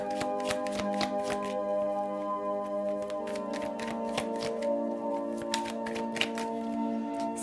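Tarot cards are shuffled nonstop in a fast, crisp riffling patter that runs the whole way through, over a steady layer of background music.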